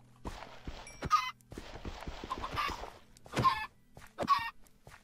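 Chickens clucking in a Minecraft-style video game, several short clucks and squawks mixed with footsteps and soft thuds from movement, fairly quiet overall with no speech.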